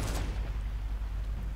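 A rocket explosion in the video game The Walking Zombie 2 produces a deep, rumbling boom with a heavy low-end roar that lingers, and a sharper burst at the start.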